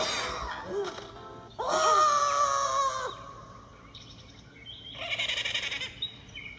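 A bird in the video game Troll Quest gobbles like a turkey, a loud burst near the start followed by a second rattling gobble, with game music and effects around it.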